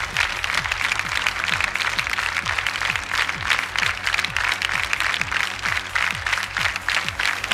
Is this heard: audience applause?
yes